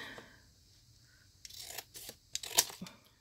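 Scissors trim the sides of a decorative paper bag topper to fit a Gemini Junior die-cutting machine, heard as a few close, crisp snips and paper rustles in quick succession after a quiet start.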